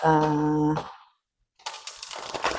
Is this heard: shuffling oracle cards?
yes